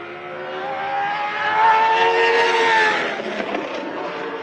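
A time attack race car engine revs hard toward 10,000 RPM at a track event, one sustained high-pitched wail that climbs, holds near its peak and then eases off, loud and close with no talking over it.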